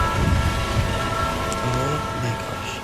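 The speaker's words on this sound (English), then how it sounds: "These trains are way too fast," Fast train rushing through a tunnel in a horror video game, a steady loud rumble with a sustained horn-like tone throughout and no clear talk over it.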